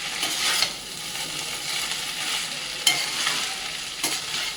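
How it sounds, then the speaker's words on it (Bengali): Noodles tossed with vinegar, soy sauce and oil sizzle in a pan as they are stirred, a continuous moderate frying hiss with a few spatula scrapes and clacks. "এটা দিয়ে আবার ভালো করে মিশিয়ে নিতে হবে।"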